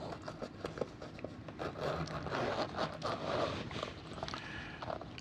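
A solid cloth zipper stitched into a leather ten-slot pen case is worked open or shut, giving a steady close scraping rasp broken by small clicks and handling knocks.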